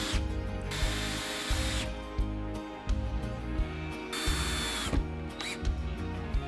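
A power drill driving screws into a wooden chick brooder, with repeated ratcheting clutch bursts and whirring spins in short close-up runs, clear and alone.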